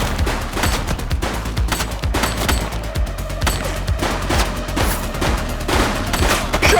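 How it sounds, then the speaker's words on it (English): Gunfire in the police video game The Precinct: rapid bursts of loud shots in quick succession, with repeated sharp cracks and booms filling the whole stretch. "Shots fired!"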